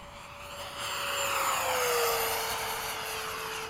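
F-15 fighter jet engine with afterburner lit at night, a steady loud roar with a high whine that dips slightly in pitch midway, building up after a quieter start.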